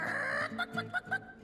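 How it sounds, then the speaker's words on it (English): In the video game It Takes Two, a chicken clucks in a quick run of short, choppy calls over a steady low game hum, with no talking. "Chicken!"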